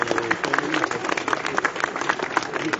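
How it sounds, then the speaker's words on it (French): Crowd applauding musicians at an outdoor inauguration ceremony for a town square, with steady scattered clapping from many hands at moderate distance, some voices murmuring underneath. "je voudrais qu'on en profite pour saluer nos musiciens et qu'on les applaudisse"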